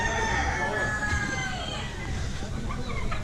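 Close chickens crow in drawn-out, wavering calls with clucking mixed in, among farm birds including a turkey behind a restaurant in Mexico. The calls overlap continuously with a steady background.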